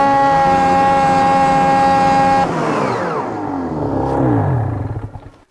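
A Ski-Doo turbo snowmobile fitted with an aftermarket muffler screams at a sustained high-pitched wide-open whine, then the revs drop and sweep, trailing off as the throttle closes.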